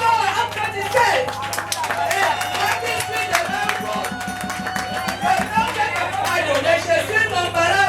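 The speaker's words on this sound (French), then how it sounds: "Bravo, applaudissez." An audience claps at a celebration of life for a widow, Mme Yobot. Scattered hand claps run through the scene, mixed with voices and a low steady hum.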